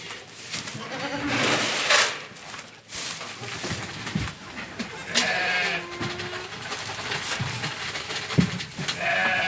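Baby goats bleat repeatedly in a greenhouse barn, several high, wavering cries overlapping close by against a busy background of shuffling and rustling.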